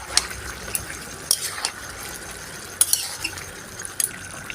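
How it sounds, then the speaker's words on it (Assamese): Stirring chicken with curd in a bowl, a soft steady scraping and mixing with occasional light metallic clinks of a spoon against the bowl, quiet and close. "দৈ দি এইখিনি ভালদৰে লৰাই ল'ম।"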